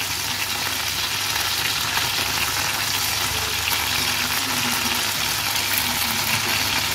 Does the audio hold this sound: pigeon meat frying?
yes